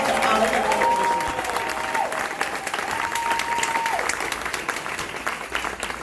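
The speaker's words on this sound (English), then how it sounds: "Let's give a round of applause for Glata and all of their staff and all of their organizations." A theater festival audience gives a long round of applause, a full, steady crowd clapping that stays loud throughout, with a faint sustained tone running underneath for a few seconds.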